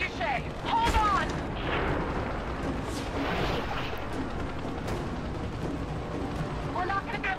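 A trebuchet launches and crashes during combat in Rise of the Tomb Raider, a dense run of booming impacts and rumbling blasts that fills the stretch, with voices talking over it.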